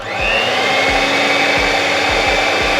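Electric mixer whirring through red velvet cake batter as food colouring is blended in, a loud, steady motor drone with a few dull knocks of the beaters against the bowl, and no one speaking.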